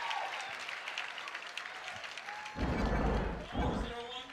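Crowd at a 2017 US Open match erupting in applause and cheers after a point, a broad roar swelling midway and surging again, heard over a commentator's voice and ambient arena noise.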